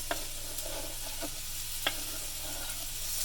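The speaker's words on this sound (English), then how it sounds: "Add those to the pan. We're going to get these apples stirred up." Apple pieces sizzle steadily in a hot pan while a utensil scrapes and stirs through them, giving a few distinct clicks over the constant frying hiss.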